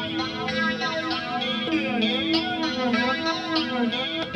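Moog Minifooger flange pedal processing a played instrument as it is switched between its two flange modes, a sustained tone with a sweeping, swirling comb-filtered shimmer that pulses in regular waves, loud and close.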